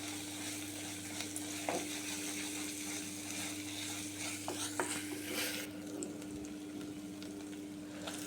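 Ginger garlic paste fries in a pan for a dried prawn gongura curry, giving a steady, dense sizzle with occasional scrapes and clicks from stirring throughout.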